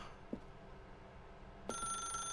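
A telephone starts ringing partway through in The Stanley Parable, a steady electronic ring that holds to the end after a quiet stretch with a soft knock near the start. No one speaks.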